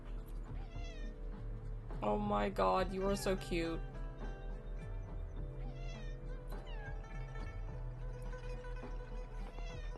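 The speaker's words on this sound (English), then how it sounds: "a little kitty cat!" A small cat in the video game Wuthering Waves gives several clear meows in a burst midway, over soft game ambience, while a voice speaks affectionately around it.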